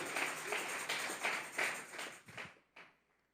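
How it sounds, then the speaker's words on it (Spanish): A church congregation claps hands together in praise, a dense patter of rhythmic clapping in strong pulses that fades out and stops after a few seconds. "Dele fuerte esas palmas al Dios de la gloria"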